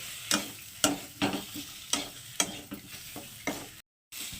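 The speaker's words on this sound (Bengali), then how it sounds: "এখন এটার সঙ্গে আমি পাঁচ মিনিট একটু কষিয়ে নেব খুব ভালো করে কষাবো এটাকে" Taro and potato fry with spices in a pan, a steady sizzle punctuated by about eight rhythmic spatula strokes close by, with a brief dropout near the end and no talk.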